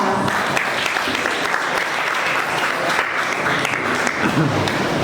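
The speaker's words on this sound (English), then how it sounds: "Let's give him a round of applause." Applause from an audience at the grand opening of a cafe and cycle shop, steady and dense for about five seconds, with some crowd murmur mixed in.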